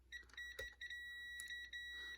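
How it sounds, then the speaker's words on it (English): Continuity beeps from a multimeter as its red and black leads touch the pins of a panel on a Panasonic TC-P65GT30 65-inch plasma TV, a string of short, steady electronic tones repeating close by with no talking. "if I put this red lead on the back side and this black one to this left pin, I get the beep, right?"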